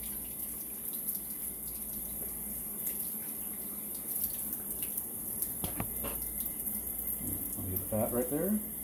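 Running tap water rinses a freshly butchered coturnix quail at a sink, a steady broadband splash with brief louder surges and gurgles near the end.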